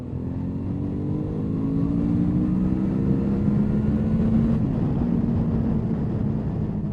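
Suzuki V-Strom 650 XT motorcycle running at about 110 km/h after wheel balancing, a steady engine drone with rising gear whine and heavy wind rush throughout.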